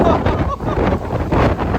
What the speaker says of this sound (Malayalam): അതായത് നോൺ സ്റ്റോപ്പ് കാറ്റ് നിക്കണില്ല.